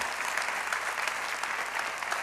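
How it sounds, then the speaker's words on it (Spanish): A church congregation claps enthusiastically during a sermon, a loud, continuous patter of many hands with slight swells, steady throughout and free of speech. "si va a aplaudir, hágalo con más ganas, iglesia."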